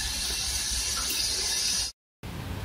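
Cooked canned lentils are rinsed under a running kitchen tap, a steady loud splashing stream that stops abruptly, then restarts after a short silence.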